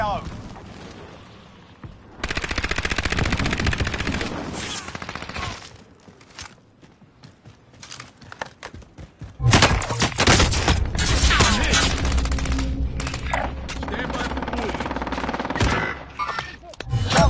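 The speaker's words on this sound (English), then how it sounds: "Taking fire." Gunfire in the Warzone video game: two long stretches of loud, dense automatic fire separated by quieter scattered shots and movement, with game voice callouts among the shooting.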